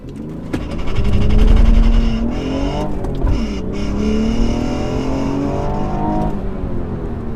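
A 2018 BMW M240i launching hard in a 0-60 run from inside the cabin, engine roaring loudly and climbing through rising revs with a dip at a gear change, then a steady strong drone.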